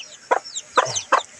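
Chickens on a Cebuano farm give three short, distinct clucks spaced evenly apart, close by and moderately loud, with quiet background between calls.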